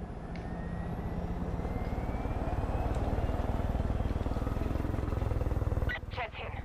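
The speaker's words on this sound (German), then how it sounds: "Ja, da ist er ja, der gute Hubschrauber." Helicopter in Far Cry 5 flying with a continuous, steady rotor and engine drone for several seconds, ending in a sudden cut with brief clatter; a voice talks faintly underneath.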